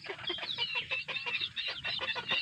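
A flock of backyard chickens clucks continuously at close range, with overlapping short calls forming a busy, steady chatter.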